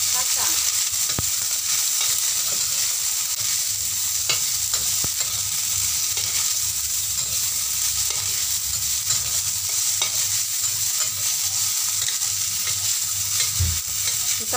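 Long beans stir-fried in a wok in oil left from frying tofu, with browned garlic, a dense constant sizzle, steady and fairly loud throughout, with occasional faint clicks of a spatula.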